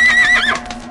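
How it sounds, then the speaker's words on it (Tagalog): A horse lets out a loud, close whinny with a rising then falling, wavering cry, heard alone in a short burst. "Hiri-hiris ang kabayo?"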